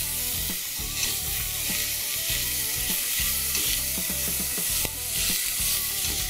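Onion frying in olive oil in a pan, a steady close hiss and crackle of sizzling that runs without a break, with small scrapes of a spatula stirring now and then.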